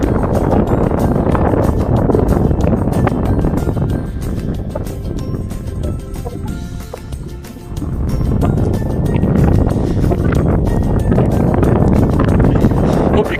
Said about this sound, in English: it's really windy, so I've got the phone quite close to me